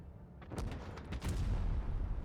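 A single deep tank cannon blast from an AMX M4 mle.54 in World of Tanks Blitz booms, followed by a rumbling echo and a second heavy impact, fairly faint overall.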